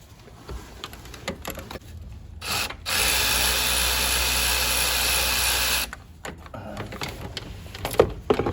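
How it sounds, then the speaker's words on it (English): A 7mm socket working a bolt on a turbocharger outlet pipe of a Ford 3.5 EcoBoost engine, with close scattered clicks and taps before and after a steady several-second whirring ratchet burst. "take our 7mm socket, and from the top, we're gonna remove this smaller pipe that's attached to the outlet of the turbocharger"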